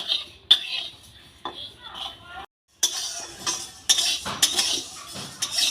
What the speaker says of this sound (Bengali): ডালটাকে এবার শুকনো খোলায় ভেজে নিচ্ছি হালকা লাল করে ডালটাকে আমি ভেজে নেব